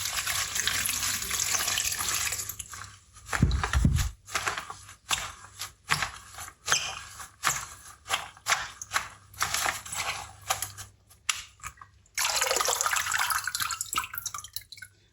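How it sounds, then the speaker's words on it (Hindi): Fenugreek leaves are washed by hand in water at a kitchen sink: running tap water at the start, then a string of close splashes and sloshes, then a steady stream of water again near the end, with no talking. "अब इनको अच्छी तरह 2-3 पानी से धोएंगे।"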